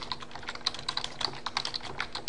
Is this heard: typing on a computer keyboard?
yes